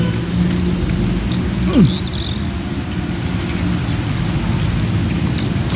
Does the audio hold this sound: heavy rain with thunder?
yes